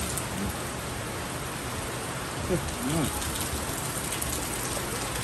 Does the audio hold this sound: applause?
no